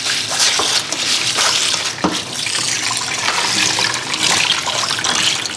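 Rice is rinsed under a running kitchen tap: a steady, close hiss of pouring water with occasional splashes and soft knocks as the grains are swished in the container.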